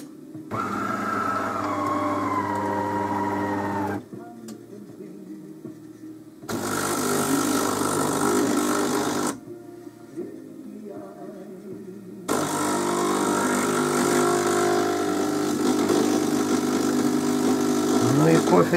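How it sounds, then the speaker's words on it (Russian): A vintage coffee machine brews in bursts of motor whirring and pump hum that cut on and off several times, with a person talking in the quieter gaps between. "Кофе делает она."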